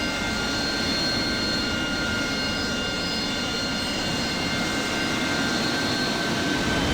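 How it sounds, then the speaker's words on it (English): Loud, steady jet engine roar of an AV-8B Harrier in the DCS flight simulator, a continuous broadband rumble with a high whine, holding constant throughout with no talk. "These planes are very loud."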